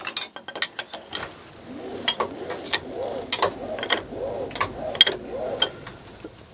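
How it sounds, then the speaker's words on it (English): A Tom Senior milling machine being pushed back and forth along its column during a service, giving a series of metallic clicks, ratcheting knocks and rhythmic sliding scrapes, close and fairly loud with no talking. "I'm pulling the machine backwards and forwards."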